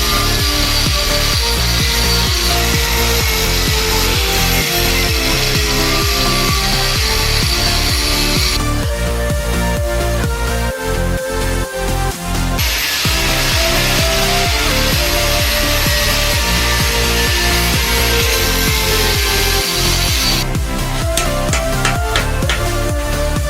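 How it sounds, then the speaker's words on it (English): A hand tool grinds and rasps steadily into the flat head of a seized bolt on a Mazda MX5 differential, a loud, close, continuous cutting noise with rhythmic strokes throughout, no speech. "I'm going to cut into that flat head to try and give me something to grip onto"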